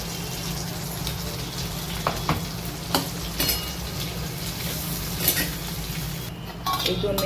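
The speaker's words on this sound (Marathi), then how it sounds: "आपला मसाला हे बघा छान परतला गेला आहे आणि साईडने तेल सुटतंय आहे" Spice masala fries in oil with brinjal, giving a constant close sizzle broken by a few clinks of a spatula against the pan.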